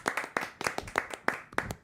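A small group claps in a studio talk-show setting, about half a dozen loud, sharp bursts of hand claps spaced irregularly across a couple of seconds, with no one speaking over them.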